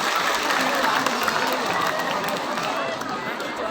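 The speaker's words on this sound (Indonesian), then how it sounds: "Tepuk tangan dulu untuk Koman." Applause from the audience at a large Islamic religious gathering held at a junior high school in Ponorogo, Indonesia: steady, dense clapping that carries through the whole stretch, with crowd noise mixed in.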